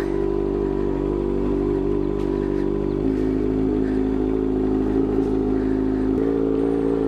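A 2022 Kawasaki ZX-6R sits idling while its cold engine warms up before a ride. It gives a steady, close, continuous low rumble with an even tone throughout and a slight change in pitch near the end.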